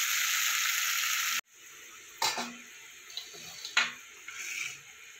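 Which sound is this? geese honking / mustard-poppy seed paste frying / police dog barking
mustard-poppy seed paste frying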